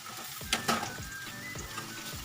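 Elephant foot yam frying with tomato in a pan gives a loud, steady sizzle. A spatula stirs it in repeated scraping strokes.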